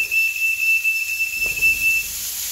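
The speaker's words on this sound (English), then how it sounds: "Sorry about the alarm. I forgot to close the door." A kitchen alarm gives a steady, high-pitched electronic beep that holds for about two seconds and then stops, with faint background noise behind it.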